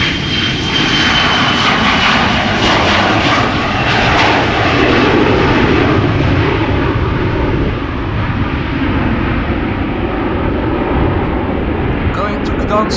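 A KLM jet bound for Gdansk thunders loudly nearby on departure from Schiphol, a dense, sustained engine roar that slowly fades and thins toward the end, with a voice speaking faintly underneath.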